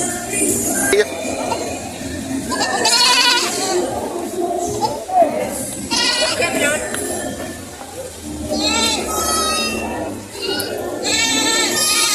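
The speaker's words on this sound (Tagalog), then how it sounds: "Ayan, ang mga kambing. Dami. Masiglang ang mga kambing ngayon." Several goats bleat loudly and repeatedly, close by, overlapping one another while people talk in Filipino in the background.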